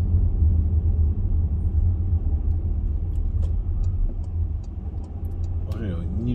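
Inside a car on the road toward Sobolevka, a steady low engine and road rumble runs throughout, with faint ticks and a brief voice near the end.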